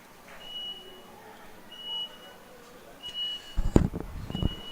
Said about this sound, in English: I again apologize for the beeping in the background.